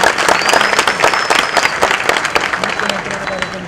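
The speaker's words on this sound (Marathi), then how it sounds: "या सगळ्यांचं एकदा जोरदार टाळ्या वाजवून आपण या ठिकाणी स्वागत करा" An audience claps loudly to welcome guests at a political speech by the Chief Minister of Maharashtra in Nandurbar, dense and sustained applause filling the whole stretch.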